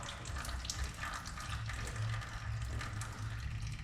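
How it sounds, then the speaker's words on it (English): Fresh oil pours and splashes steadily through the open drain of a Toyota Hilux transfer case, a continuous liquid gushing and trickling sound heard close up without a break. "That's clean oil coming through now"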